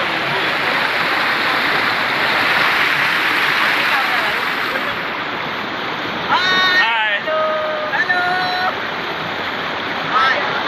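Moti Jharna waterfall near Bhagalpur, Bihar, in a hilly setting roars as a loud, steady wash of rushing water, with people talking over it in the second half.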